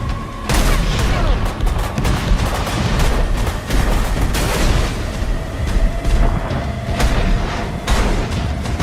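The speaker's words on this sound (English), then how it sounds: "All mounts, commence fire." Warship guns open fire in a World War II battle scene of Canadian corvettes fighting U-boats in the Atlantic. Loud, overlapping booms and rapid gunfire bursts roar continuously and close up over a dense battle din.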